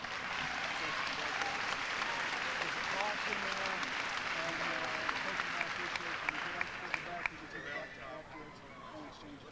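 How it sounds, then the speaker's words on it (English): A large audience applauds steadily, a dense wash of clapping that holds throughout with a few louder claps near the end. "We'd like to give her a round of applause."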